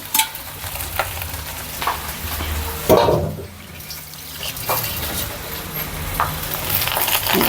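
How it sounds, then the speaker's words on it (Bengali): Leftover cooked rice frying in a pan, with a steady sizzle under repeated scraping and stirring strokes, a brief louder clatter near the middle, and no talking. "সবগুলো ভাত আমি এখন ভেজে নিচ্ছি"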